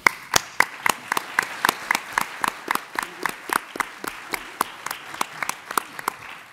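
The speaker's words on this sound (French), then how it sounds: "je vous remercie d'applaudir nos intervenantes." A small conference audience applauds its panel speakers with sparse, individually distinct claps in a steady rhythm, fairly close and moderately loud, with no talk over them.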